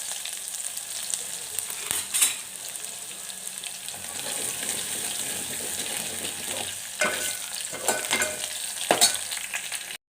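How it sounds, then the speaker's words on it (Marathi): Mustard seeds, cumin and crushed ginger-garlic dropped into hot oil for a Vidarbha-style vegetable dish, giving a steady close sizzle with a few sharp crackles and spoon strokes throughout, no talking. "तर इथं आता तेल गरम झालेले आहे तर मी त्याच्यामध्ये मोहरी टाकून घेते"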